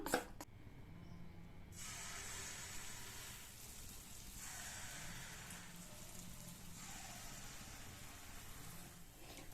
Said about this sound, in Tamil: மிதமான சூட்டில் இருக்கும்போதே நம்ம அப்பத்தை ஊற்றிடலாம்